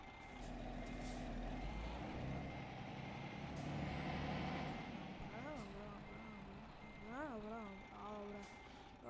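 Truck reversing beeps from Euro Truck Simulator 2 game play, a steady repeating tone over low engine rumble, with a person talking over it.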